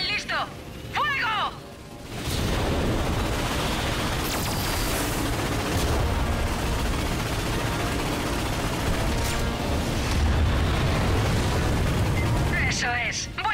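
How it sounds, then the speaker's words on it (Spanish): An ion cannon fires in the Ratchet & Clank video game, a loud sustained roaring blast and rumbling explosion that fills most of the clip, with brief voices speaking before and after. "¡Cañón listo! ¡Fuego!"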